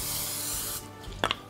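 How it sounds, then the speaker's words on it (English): Non-stick cooking spray hisses onto a baking tin for brownies, one steady loud spray lasting under a second, followed by a couple of faint clicks of the can. "I'm going to grease my tin using some non-stick cooking spray"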